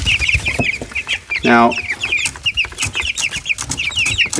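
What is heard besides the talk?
chicks clucking in a brooder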